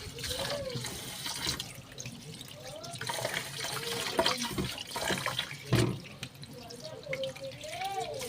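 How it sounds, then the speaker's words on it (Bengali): Gobindobhog rice being washed under running water in a kitchen sink, a steady close splash and trickle of tap water with clattering grains and hand movement throughout. "গোবিন্দভোগ চালটা একটু ধুয়ে নেব।"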